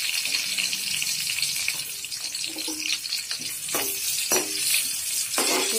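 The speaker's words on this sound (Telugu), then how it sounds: "ఉల్లిపాయలు కొద్దిగా వేగనివ్వాలి." Chopped onion fries gently in oil with cloves and cinnamon in a pan for ridge gourd masala curry: a close, continuous hissing sizzle with a few soft stirring knocks.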